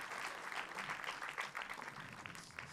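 An audience at a short film festival award ceremony claps, a faint, distant patter of many hands with uneven swells, fading slightly toward the end.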